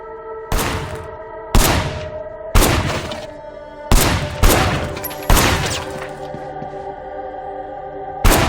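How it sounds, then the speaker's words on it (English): Seven loud, separate gunshots from the Sleeping Dogs video game, each a sharp crack with a ringing decay, fired at uneven intervals with short quiet gaps between them. "Officer Shen, take up a firing position"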